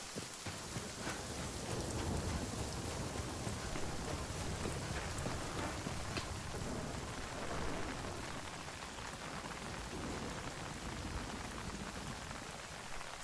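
Heavy rain pours down steadily with a dense hiss in the survival video game Nightingale, with low thunder rumbling underneath, loud and constant throughout with no voices.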